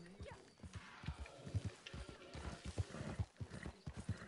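Rhythmic clip-clop of horse hooves trotting in the video game Red Dead, fairly loud and close, with a brief whinny-like tone mixed in; no talking.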